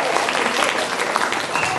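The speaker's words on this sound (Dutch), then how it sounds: "Applaus voor Nikai Hintvelaar!" Audience applause at a poetry festival, dense steady clapping from a crowd throughout, with a faint voice mixed in.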